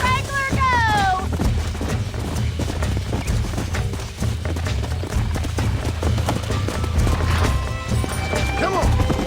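Hoofbeats of a galloping horse in Red Dead Redemption, a fast rhythmic drumming of clip-clops running through the whole stretch, with voices shouting over it and occasional whinnies and crashes.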